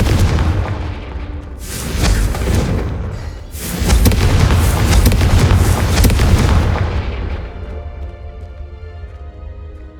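A Confringo blast spell explodes in the PS5 game Hogwarts Legacy, a loud booming blast with crackling, rumbling bursts that swell, surge again and then fade out over several seconds.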